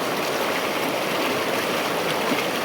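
A river in Nyuatan, Kutai Barat, rushes past close by in a loud, unbroken roar of flowing water with no pauses or voices.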